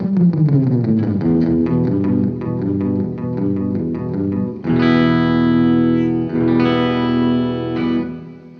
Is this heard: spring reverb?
yes